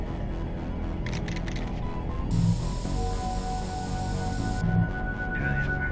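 Short bursts of spray paint from an aerosol can in The Warriors video game, a quick rattly burst followed by a longer steady hiss of a couple of seconds, then quieter game ambience.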